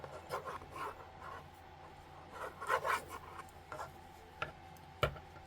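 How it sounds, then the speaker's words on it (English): Long straight knitting needles scrape and tick against a desk while working garter stitch, a series of soft, close rasps and light clicks with one sharper tap near the end, quiet and without talk. "My long needles are scraping the desk, and that's what's making the noise"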